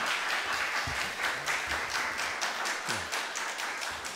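A church congregation at a Sunday worship service applauds to welcome a pastor to the pulpit: dense, steady clapping from many hands throughout, moderately loud and filling the room, with no talking over it.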